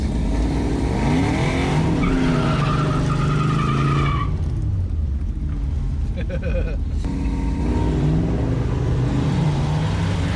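A Mustang Cobra with a 302 engine hot-laps a drag track, its loud revving engine rising and falling through gear changes with tire squeal and skidding, close, with voices talking underneath.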